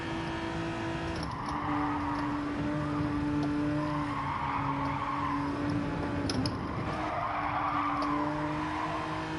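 A race car in Gran Turismo 7 revs out hard in fourth gear, its loud sustained engine whine mixed with tyre skidding and squeal, continuous and close throughout.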